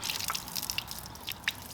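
Water splashing and dripping onto a car body panel during a one-bucket wash, a steady wet spatter with a few sharper drips, close by and fairly quiet, no talking.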